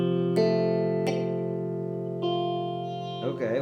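A five-string barre chord strummed on guitar with one string buzzing, struck about four times and left ringing between strokes, played alone with no talk.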